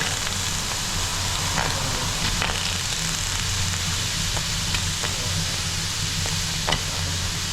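Tomatoes and garlic frying in a pan with a steady, dense sizzle, close and continuous, broken by a few faint clicks of stirring.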